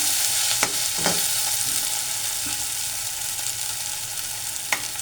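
Masala and diced potatoes fry in a pan for kadhi pakora, giving a steady close sizzle broken by a few sharp scrapes and taps of a ladle stirring, with no voices.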